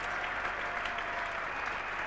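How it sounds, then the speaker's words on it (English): A cricket crowd at a 1981 Ashes Test applauds steadily, a dense far-off wash of clapping that holds at an even level throughout. "And final applause for the 200 going up."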